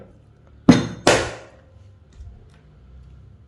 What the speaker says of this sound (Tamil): நம்ம எல்லா கொட்டையும் தட்டி இந்த மாதிரி எடுத்துக்கலாம்.